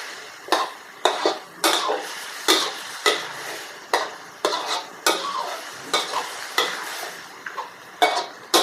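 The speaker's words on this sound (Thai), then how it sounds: "เราก็จะคนอย่างนี้ไปก่อนเนาะ ให้ซีอิ๊วขาวกับหมูให้เข้ากันก่อนเนาะ" Pork and light soy sauce stirred in a pan with a utensil, about a dozen sharp, evenly spaced scraping strokes against the metal over a soft sizzle, close and clear, no voices.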